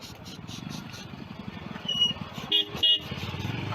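A vehicle horn honks several times in short bursts on a rural road in central India blocked by cows, over a running engine and some background voices.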